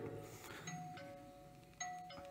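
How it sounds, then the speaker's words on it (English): A quiet two-tone chime sounds, then repeats a moment later, faint over a low background hum. "Doorbell."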